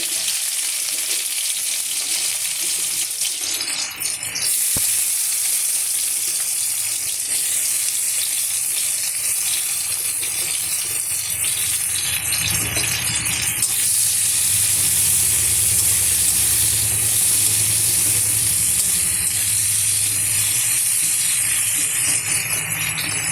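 Spices hit a hot kadai with a loud, continuous hissing sizzle that swells and stays dense throughout, with no talk over it.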